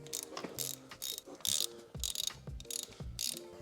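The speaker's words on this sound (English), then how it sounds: "So now I just gotta take out all of these bolts and then we could split the cases." Ratchet working loose the bolts on the engine cases of a 1993 Yamaha YZ125 two-stroke, giving repeated bursts of close, bright clicking with short pauses between turns and light metallic clinks of tools.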